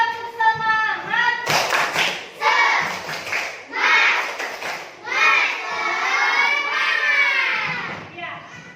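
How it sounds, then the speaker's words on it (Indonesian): A class of schoolchildren performs a rhythmic spirit clap, bursts of quick, tight hand claps mixed with loud, excited group shouting and chanting close by. "Ya, tepuk semangat lagi, tepuk semangat."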